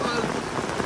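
Heavy rain pours at a cemetery tomb, a dense, steady hiss of drops filling the brief moment at close range.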